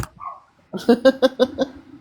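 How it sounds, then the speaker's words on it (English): A large dog barks outdoors behind a house, a series of about five sharp, evenly spaced barks at moderate distance, preceded by a brief soft whine. "my fur baby's out the back barking"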